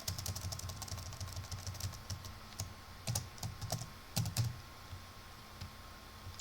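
Fingers type on a computer keyboard while entering values into an Excel spreadsheet, producing quiet, close, irregular key clicks in short flurries over a faint steady hum.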